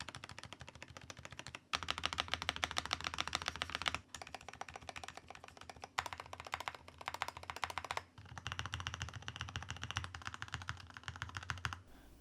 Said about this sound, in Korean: 자, 그럼 이제 본격적으로 키보드 사운드를 체크해 보도록 하겠습니다.